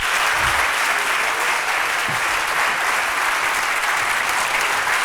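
An audience at an award presentation during a literary event in Valladolid applauds loudly and steadily, a dense continuous clapping that fills the room with no voices on top.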